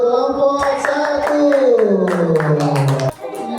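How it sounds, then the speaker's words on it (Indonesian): A classroom group claps in sharp, rhythmic bursts while children's voices chant or sing along, all close and fairly loud, ending with an abrupt stop. "beri tepuk tangan yang meriah untuk kelompok"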